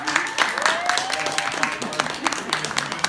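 Audience applause at a community empowerment event, a scattered burst of clapping from a room of listeners, moderately loud, with a voice briefly audible over it.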